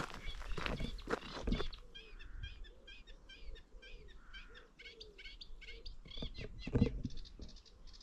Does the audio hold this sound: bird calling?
yes